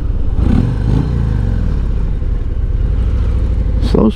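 A 2023 Harley-Davidson 120th anniversary CVO Road Glide rumbles steadily at low speed, its engine a constant close, deep drone with a brief rev near the end.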